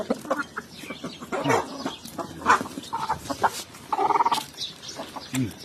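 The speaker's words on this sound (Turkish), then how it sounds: "Yine şunun tavuklarım bu. Yine horozlarım bu." Chickens cluck and a rooster calls repeatedly in a busy farmyard, close by, with overlapping bird calls and no talking.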